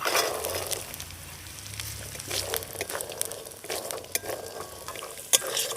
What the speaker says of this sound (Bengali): মটরটা দিয়ে অল্প কিছুক্ষণ ভেজে নিয়েছি